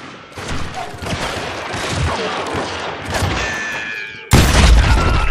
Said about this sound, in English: That scatter gun was like a double-barreled howitzer.